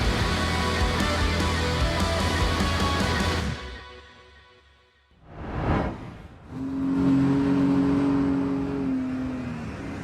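A Seabreeze vehicle with a 260 horsepower supercharged engine roars loudly and steadily, then fades away, sweeps past with a whoosh, and settles into a lower droning hum.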